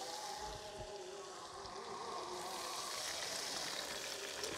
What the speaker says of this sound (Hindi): और अब इसमें मैं शामिल करूँगी थोड़ा सा पानी